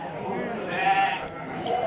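A ram bleats close by, a long wavering call that swells in the middle and trails off.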